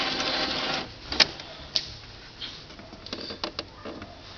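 An Epson printer with a jamming print carriage tries to pull in a sheet of paper: a steady close mechanical whir broken by sharp clicks and a loose run of ticking toward the end.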